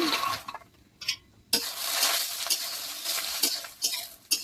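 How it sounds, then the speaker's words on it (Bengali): Fox nuts (makhana) frying in oil in a wok for payesh, crackling and sizzling with scraping stir strokes and intermittent clatter, close and fairly faint, no talking. "মাখনাগুলো তো ভেজে নিচ্ছি, ভাজা হয়ে গেছে"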